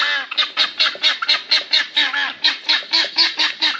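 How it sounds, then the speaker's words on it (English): Guinea fowl on a homestead calling in a rapid series of about fifteen loud, harsh, honking squawks in an even rhythm, close by, with no talk over them. "Oh, the guineas."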